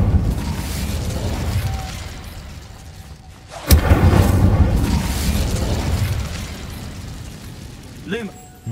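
Hogwarts Legacy's Incendio fire spell is cast with a sudden sharp burst followed by a rushing, roaring flare that fades over several seconds, with game ambience and brief voices around it.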